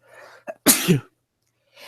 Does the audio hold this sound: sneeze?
yes